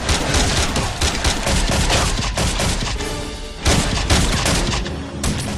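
Rapid gunfire crackles in an action film shootout with corrupt police, dense bursts of loud shots and heavy impacts tumbling over one another with short lulls between volleys.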